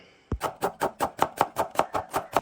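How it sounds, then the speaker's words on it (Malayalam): Onion being chopped on a cutting board while preparing biryani: a knife strikes the board in about nine to ten steady, evenly spaced chops, close and crisp, with no talk. "അപ്പം ആദ്യം നമുക്ക് സവാള കട്ട് ചെയ്യാം"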